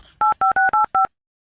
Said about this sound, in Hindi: पड़ोसन को फोन लगाता हूँ।